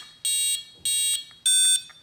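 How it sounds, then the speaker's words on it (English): Three loud, high electronic beeps of equal length, evenly spaced, each followed by a softer short chirp, close by, from the RC receiver of a 1/5 scale Rovan 305FT Baja 5T with a 30.5cc engine powering on. "we get 4 beeps and then a quick beep."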